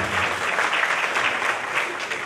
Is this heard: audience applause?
yes